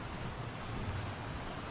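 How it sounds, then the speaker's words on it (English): Steady rain falls in the video game GodSIM as a soft, even hiss that continues without a break and without any voices. "Wow, the rain is really coming down."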